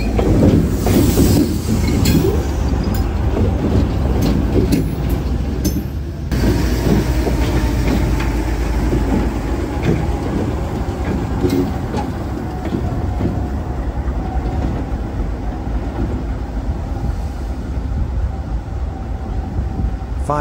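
An EMD GP9 and a GE B39-8E diesel locomotive roll along the Seminole Gulf Railway in South Florida, with loud, continuous close-up rumble and clattering wheels on track throughout.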